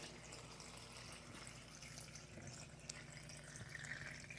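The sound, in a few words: filling container with water for green juice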